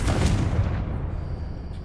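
A loud, booming Confringo fire-spell blast in Hogwarts Legacy, one heavy explosive burst up close that rumbles and slowly dies away over about two seconds.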